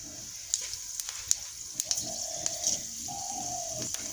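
Panch phoron spices sizzling in hot oil in a wok: a quiet, steady hiss with scattered small pops and crackles, with no voices.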